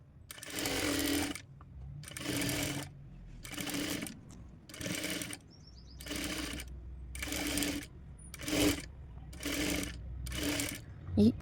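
A sewing machine stitches blouse cloth in bursts of rapid mechanical whirring, about nine evenly repeated runs separated by brief pauses, close and fairly loud, with a voice talking now and then.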